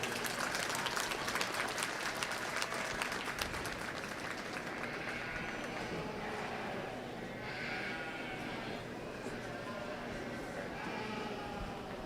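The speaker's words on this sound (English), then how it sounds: "Let's give this young lady a round of applause." Crowd applause at a youth livestock show lamb class, loud clapping at first that fades into a quieter mix of sheep bleating and a voice speaking over the arena.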